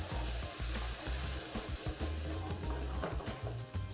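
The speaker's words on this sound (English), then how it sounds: "we're going to add a little beef stock and bring that just to a simmer." Beef stock simmering in a pan for beef stroganoff gives a steady, fairly loud bubbling sizzle that carries on without a break and with no voices.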